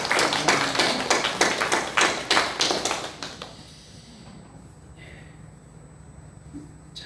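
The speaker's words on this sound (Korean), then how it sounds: "여러분 박수로" A church congregation at a Sunday service applauds with a run of loud, evenly spaced claps for about three seconds, then the room falls quiet apart from faint background noise.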